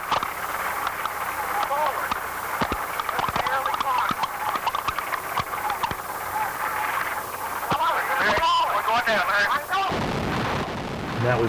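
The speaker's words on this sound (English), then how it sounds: "And that was the sound of the impact." Air Florida airliner crash impact captured on a cockpit voice recording: a continuous harsh roar with crew voices under it, then a burst of loud broadband banging and rattling, ending in an abrupt shift to noisy wash.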